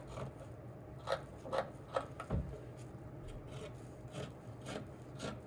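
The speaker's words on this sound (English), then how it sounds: "I'm going to continue cutting all these pieces" Scissors snip through fabric pattern pieces for a McCall's 8051 garment, with a few soft rasping cuts early on and then faint steady rubbing and shearing sounds, quiet and close with no talking.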